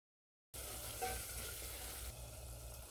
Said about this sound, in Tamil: பச்சை வாசனை போக வதக்கி விடலாம்.